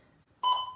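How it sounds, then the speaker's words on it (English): Weather radio beeping to warn of bad reception: a tiny high chirp, then a single sharp electronic beep with a clear tone that sounds close and alone, ringing briefly before cutting off. "that was the weather radio beeping at me, telling me it had bad receptions"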